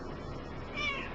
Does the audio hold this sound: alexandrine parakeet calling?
no